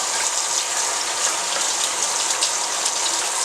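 Steady running water pours over paint brushes, rinsing soapy lather from bristles that were salvaged from a dried-out state; a continuous, fairly loud gushing like a tap with no breaks.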